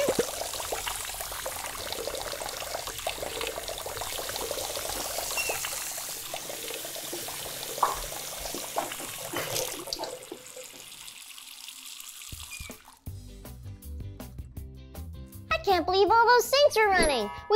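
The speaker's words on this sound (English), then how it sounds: "Jimmy, were you running all these sinks so that you could fill your water blaster" Water runs steadily from several sink taps in a washroom, a continuous splashing rush under a voice, before the sound shifts to music near the end.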